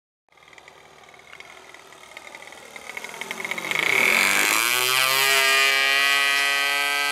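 Motors of a Walkera Furious 215 drone spin up from silence with a rising electric whine that then holds steady at a higher, louder pitch. The sound is close and heard alone.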